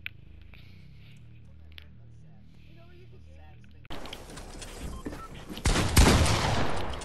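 Fortnite gunfire opens halfway through as a rapid, loud burst of shots over game noise, following a quieter stretch of voices and game sounds, with people talking throughout.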